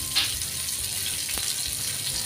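Pala fish frying in a pan, a low constant sizzle with a brief splashy hiss near the start and a single faint click midway.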